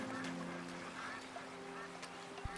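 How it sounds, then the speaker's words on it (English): Ducks honk and quack in a video game, several scattered calls over a faint background hum and soft ambient noise. "Ducks."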